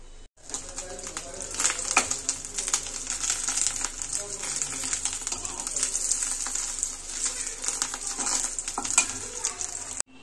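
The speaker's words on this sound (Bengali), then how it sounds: "এবার একটু ডিম ভাজি করবো" An egg fries in a pan in a home kitchen, a constant close crackling sizzle with scattered pops and faint stirring clicks, while birds coo softly in the background.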